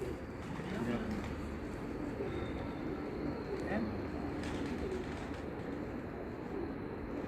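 Pigeons coo softly on a rooftop loft, low murmuring calls repeating under people talking nearby, fairly faint against steady background noise.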